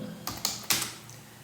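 Brief computer-keyboard typing: three crisp, close keystrokes in quick succession, then a short quiet tail.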